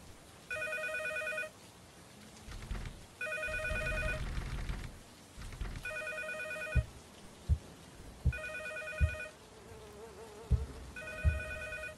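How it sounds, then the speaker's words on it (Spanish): Telephone ringing inside a building in the horror game Cycle, repeated buzzy old-style rings in regular bursts with pauses, alongside footsteps and thumps. "Pero suena el teléfono ahí dentro."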